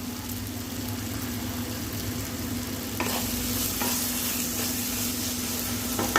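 Snail curry with coriander leaves frying in hot oil, a steady close sizzle and crackle throughout with a low hum underneath and a few brief stirring clinks partway through.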